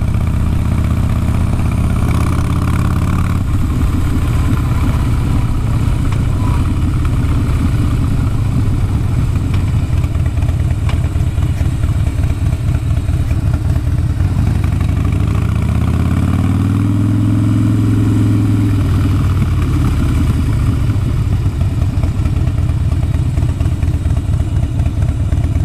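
A motorcycle engine idles loudly and close by with a steady rumbling throb, rising briefly in a short rev before settling again.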